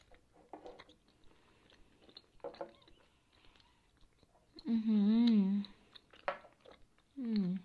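Giant tarantula spider gummies are chewed softly up close, with sticky, wet mouth sounds in scattered bursts between stretches of quiet, interrupted by loud humming or vocal tones partway through.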